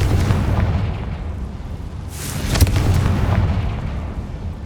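A Confringo blasting spell bursts in Hogwarts Legacy, a dull booming explosion over rumbling low-end game noise, with a sharper crack near the middle.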